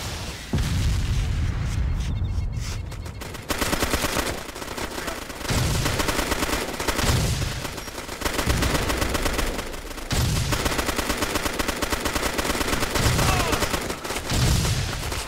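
Sustained video game battle gunfire with repeated heavy booms of artillery, loud and continuous throughout, dense bursts of shots pulsing in waves with no talk over it.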